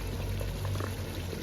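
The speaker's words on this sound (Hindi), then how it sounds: "जो अब हम इसको इसी पानी में पकने के लिए छोड़ देंगे।" Chicken for Muradabadi biryani simmers in its own yogurt water, giving a steady, close bubbling and faint liquid churn that runs without pause.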